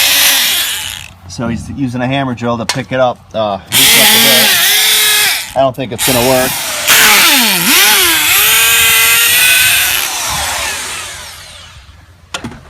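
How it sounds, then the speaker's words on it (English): A hammer drill breaks up hard pan soil at an antique farmhouse barn, first in short stuttering bursts, then in a long, loud, close hammering run. Someone speaks briefly between bursts. "So he's using a hammer drill to pick it up."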